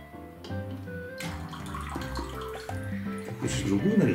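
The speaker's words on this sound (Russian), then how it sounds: "Водички набрать надо в кастрюльку." Water runs from the tap of a toy children's kitchen into a small pot, a light continuous trickle heard close up beneath a child's and an adult's voices.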